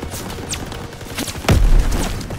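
A grenade explosion in the video game Call of Duty: WWII, a heavy low boom bursting loudly about midway and rumbling on, preceded by scattered battlefield gunfire and clatter.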